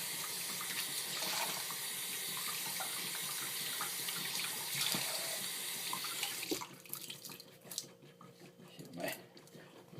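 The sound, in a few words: water running from tap while rinsing shave bowl and soap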